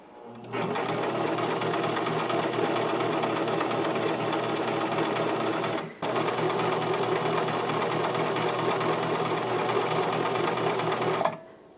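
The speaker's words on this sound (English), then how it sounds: "make sure that you stop the machine when it gets back to the horizontal marking" A four-step buttonhole sewing machine stitches a buttonhole in a loud, steady, rapid mechanical whir. It runs for about five seconds, stops briefly, then runs again for another five seconds.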